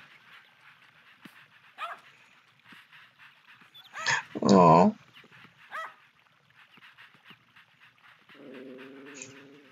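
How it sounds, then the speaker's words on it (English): A puppy in the Nintendogs game on Nintendo DS gives a few short yips and barks, then a whimpering whine near the end. The sounds are close and clear over a quiet game background, and a person briefly coos. "I can just watch this dog play with this ball for hours."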